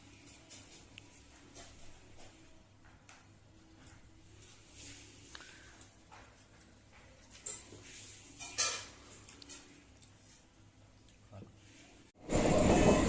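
Low steady rumble inside a moving Uttarpara local train carriage heading to Howrah, with rattling and scattered voices, ending in a sudden loud burst of noise.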